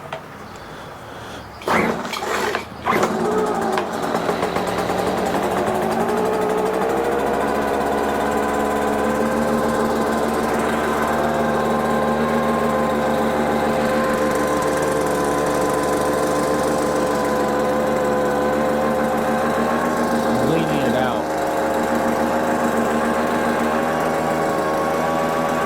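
A Craftsman leaf blower on choke: a couple of sharp pull-start rattles, then a small two-stroke engine running steadily with a buzzy, even drone for over twenty seconds, close by and alone.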